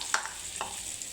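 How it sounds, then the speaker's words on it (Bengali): A tomato and turmeric mixture fries in a pan with a soft, continuous sizzle, broken by two brief scrapes as it is stirred. "এখন আমি আবারও হালকাভাবে ভেজে নেব"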